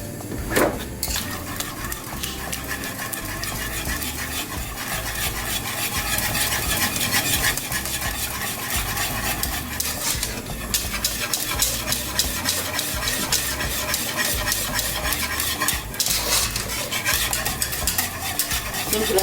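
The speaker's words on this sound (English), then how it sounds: "cook the flour, the butter, and the milk together. So just keep on stirring" Bechamel of flour, butter and milk being stirred continuously in a pan, a dense scraping and bubbling texture that runs steadily close up with soft clinks, no voices.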